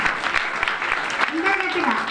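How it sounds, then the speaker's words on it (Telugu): An audience claps at a Christmas event, with steady, dense applause running throughout under a voice and other sound. "గట్టిగా క్లాప్స్ కొడదాం మనందరికి. ఇంకా గట్టిగా"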